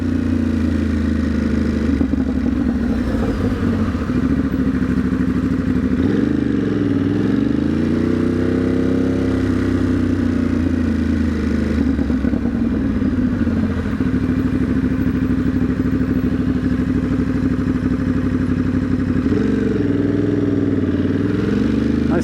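A motorcycle rides at a steady, gentle pace across Manhattan Bridge, its engine a constant close drone with mild pitch swells and continuous road and wind noise.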